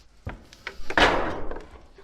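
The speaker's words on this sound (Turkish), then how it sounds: "Şimdi kapıyı tekrar açalım gelsinler içeriye." A farm building door in a village is opened to let sheep back inside, giving a solid wooden thump and scrape with a few lighter knocks around it, close and fairly loud, with no talking.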